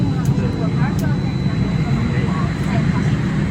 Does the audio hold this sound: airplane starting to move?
yes